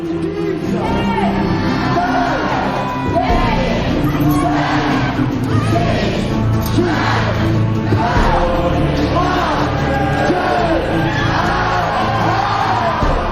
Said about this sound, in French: Le décompte, la chair de poule, les claquements de mains, les cris de la foule.